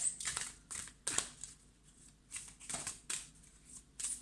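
Tarot or oracle cards shuffled for a reading, heard as a series of crisp, close riffling bursts separated by short pauses, with no talking.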